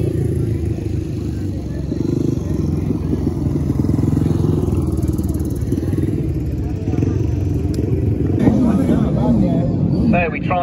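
Grasstrack motorcycles roar off the start of a race at a 2021 summer meeting, a dense, continuous engine drone sustained throughout while a commentator speaks loudly over it.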